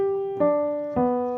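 Piano chord played broken, with notes struck one after another at a steady pace, each ringing on clearly in a quiet room.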